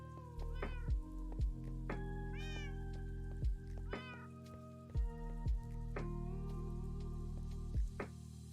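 Several cats meow in the blocky world of the game Minecraft, high drawn-out calls that come one after another, some overlapping, above a steady low background hum with no talking.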